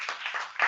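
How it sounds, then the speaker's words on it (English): Symposium audience applauding in a short burst of clapping, moderately loud with a swell near the end, no voices over it. "And everybody should applaud them."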